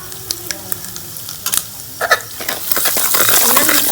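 Spice masala of mustard seeds, salt and turmeric for a ginger and green chilli pickle is stirred in a pan, with scattered spoon clinks and scrapes giving way to a loud, steady sizzle near the end.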